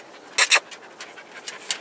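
A dog pants close by in quick, breathy bursts, with two stronger huffs at first followed by lighter, evenly spaced breaths.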